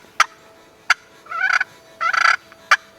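A wild turkey gobbles from its roost twice in rattling bursts, loud and close, set between several sharp single clucks or yelps in an otherwise quiet outdoor setting.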